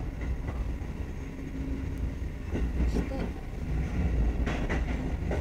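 Kotoden (Takamatsu-Kotohira Electric Railroad) electric train pulling out of Okada station, heard from the cab, with a steady rumbling run and rising rail clatter near the end, while people talk quietly over it.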